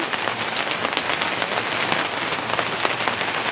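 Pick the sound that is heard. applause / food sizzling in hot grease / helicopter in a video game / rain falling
rain falling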